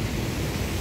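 The strong current of the swollen Aklan River rushing beneath a bridge in Kalibo after heavy rain, a steady, dense, loud roar of flowing water with no breaks.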